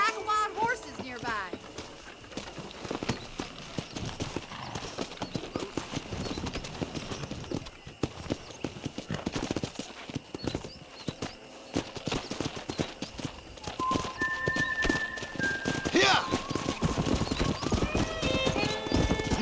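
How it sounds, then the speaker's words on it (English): Wild horses gallop past in the Red Dead Redemption video game, with hooves clattering in a fast, dense rhythm and horses whinnying now and then over a full game soundtrack with a voice at times. "That ranch hand said there's a pack of wild horses nearby."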